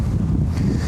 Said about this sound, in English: Why is it only ever windy when I need to work outside?